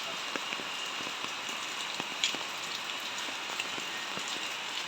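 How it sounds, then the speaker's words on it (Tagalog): Heavy typhoon rain pours steadily onto a surface, a dense continuous patter with scattered louder drops landing nearby. "Basang basa sa ulan walang masisilungan"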